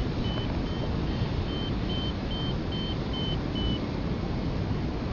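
A flight instrument gives a series of short, evenly spaced high beeps during a flight along low coastal cliffs, sounding over constant loud wind rush.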